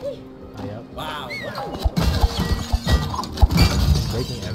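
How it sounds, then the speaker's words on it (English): Glass shattering in the It Takes Two video game: a burst of breaking and crashing clatter spread over several seconds, heard under game noise and a voice talking. "I'm breaking every glass in this game."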